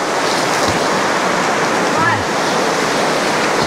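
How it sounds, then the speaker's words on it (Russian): A small waterfall in Khashupse canyon sends out a steady, close rushing of water that fills the whole stretch without pause. "Такой небольшой водопад,"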